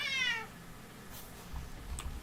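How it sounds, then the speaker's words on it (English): A cat gives one clear, short meow up close, then a quiet room with faint rustling and a couple of small knocks. "Kitty noises."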